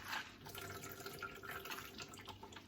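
Thawed spinach is squeezed hard in a strainer, and water trickles and drips out with a soft, continuous splashing. The sound is close and faint, with no talk over it.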